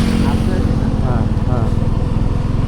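A Suzuki V-Strom motorcycle engine drones steadily while being ridden, close and loud, with people talking over it.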